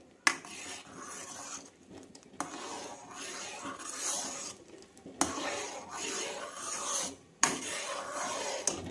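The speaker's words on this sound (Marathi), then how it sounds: "अधूनमधून याला चमचेच्या सायाने असं फिरवत राहायचं आहे" A spoon scrapes and rubs around a pot of simmering rice kheer in milk, in four rasping stirring bouts separated by short pauses, fairly quiet.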